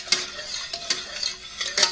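A utensil stirs a mixture with heavy cream in a bowl, making quiet, close scrapes and light clinks in an irregular rhythm.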